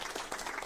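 A short, steady burst of applause during a Fortnite livestream, heard only briefly.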